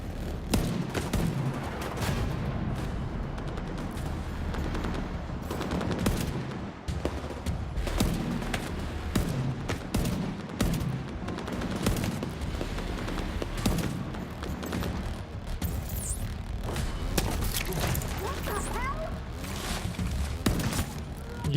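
Sustained video game gunfire in The Division 2 as grenades are shot out of the air during a boss fight, rapid overlapping shots and booms forming a dense, loud, continuous barrage throughout.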